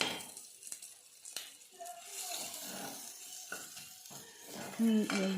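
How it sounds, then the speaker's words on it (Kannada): Tomato frying with a few cashews in a pan for paneer butter masala, a soft sizzle broken by spoon stirs and light metallic clinks, fairly quiet and close. "ಈಗ ನಾನು ನೆಕ್ಸ್ಟ್ ಅದಕ್ಕೆ ಟೊಮೆಟೊ ಹಾಕ್ಕೊಳಕತ್ತೀನಿ."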